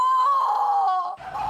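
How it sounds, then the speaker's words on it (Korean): A woman lets out a piercing, sustained scream of anguish in a dramatized horror story, loud and shrill before breaking off into a ragged, strained cry. "찢어지는 비명이 들려왔어요."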